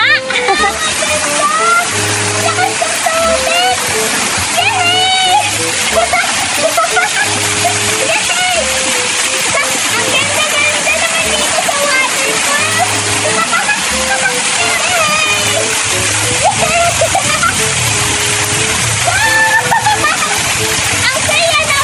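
Constant loud splashing and rushing water under a cold waterfall, filling the whole stretch with a dense roar, while voices talk and exclaim over it throughout.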